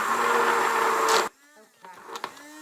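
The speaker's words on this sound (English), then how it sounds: "I'm gonna use my immersion blender, and I'm going to blend this until I have a nice consistency of whipped cream" A loud, steady whir of an immersion blender whipping cream runs for about a second, then cuts off abruptly, leaving quiet clinks and small handling sounds in a kitchen.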